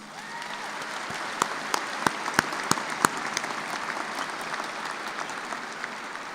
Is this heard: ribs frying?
no